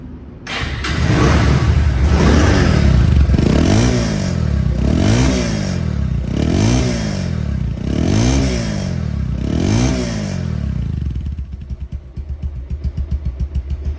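A Bajaj Pulsar motorcycle engine revs loudly and repeatedly in steady surges, about every second and a half, close by, then settles to a rough idle.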